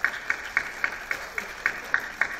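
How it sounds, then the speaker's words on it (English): An audience at a thought-leadership conference welcoming speakers claps in a faint, steady rhythm of about nine even beats, heard from some distance with a soft room hum underneath. "clapping for a couple of minutes"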